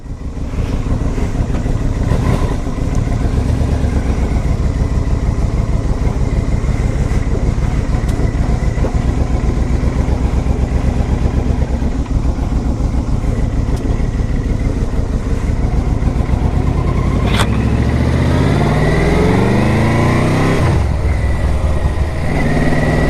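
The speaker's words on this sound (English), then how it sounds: "That V4 is such a smooth engine, so much smoother than a twin." A 2006 Yamaha Royal Star Deluxe's V4 engine runs steadily and smoothly throughout, a close, continuous low drone with a slight change in tone near the end.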